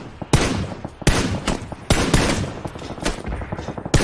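Gunfire in the battle royale game PUBG during a league match: loud, sharp bursts and single shots crack out at irregular intervals, some rapid volleys, with no talk over them.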